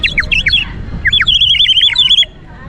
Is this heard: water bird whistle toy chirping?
yes